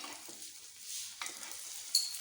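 Egg-coated bread slices for a potato sandwich frying in a pan, a soft continuous sizzle with occasional scraping stirs and a brief metallic clink near the end.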